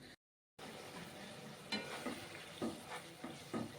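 Potato pieces cooking in hot oil in a pan, a steady soft sizzle with several light scraping stirs at regular intervals, close and with no talk, after a brief silent gap at the start.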